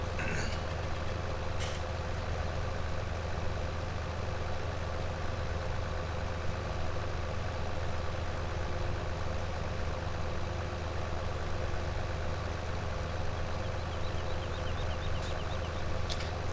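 A Deutz-Fahr tractor in Farming Simulator 17 runs with a steady, loud, low engine drone that holds constant from start to finish, with a couple of faint clicks near the start and end.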